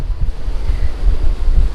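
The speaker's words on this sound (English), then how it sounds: "the wind's starting to get up a bit" Wind blowing outdoors at a campsite near Poulton-le-Fylde, Blackpool, a loud gusty low rumble buffeting the microphone throughout, with no voices.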